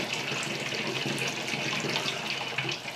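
Water pours steadily from a measuring cup into a carboy while someone prepares to brew beer. The continuous splashing stream stays fairly even and close throughout, with no talking.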